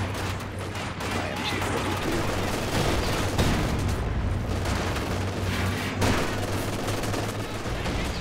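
MG42 machine gun fire in a multiplayer shooter video game, rapid dense bursts of gunfire layered with other battlefield shots and booms, loud and continuous throughout.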